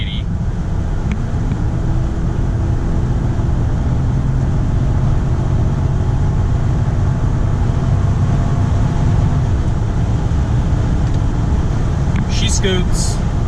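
A 1999 Lexus LS400 accelerates along a road in Mexico, its engine hum climbing slowly beneath a loud, constant wash of tyre and wind noise heard from inside the cabin, steady throughout with no breaks.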